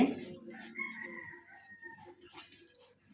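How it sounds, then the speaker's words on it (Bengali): A rooster crows faintly in the distance, a drawn-out call heard over quiet background noise. "কত কিছু না ডাকে মোরগে ডাকে"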